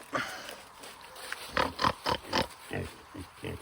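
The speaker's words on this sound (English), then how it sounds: "So we have 4 pigs right now." Pigs on a small backyard homestead grunt in a quick series of short, moderately close bursts, several in a row, with brief pauses between them and no talk over them.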